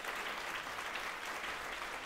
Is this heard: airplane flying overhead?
no